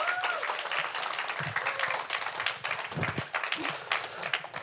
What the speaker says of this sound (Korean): 박수로 환영할까요?